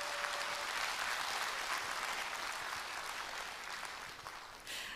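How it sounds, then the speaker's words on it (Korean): A concert crowd claps in a broad, sustained wash of applause that holds evenly throughout and thins slightly near the end, with no talk over it. "여러분 뜨거운 박수 보내주시기 바랍니다"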